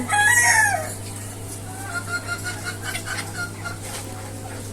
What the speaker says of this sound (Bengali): আর এই যে এই সাইডে মোরগগুলো থাকে